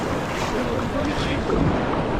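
Sea waves wash continuously at Benidorm beach, a steady loud surf roar mixed with wind buffeting the microphone and no clear breaks between surges.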